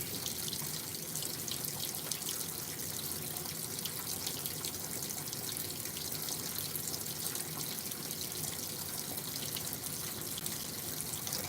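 A GE GTW465ASN9WW top-load washing machine fills with water, a steady, close rushing hiss of water pouring in that runs without a break.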